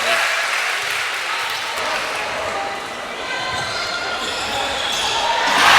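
A crowd at a women's basketball semi-final between the Flames and Townsville Fire gives a sustained, broad roar of cheering that dips briefly and then swells louder toward the end.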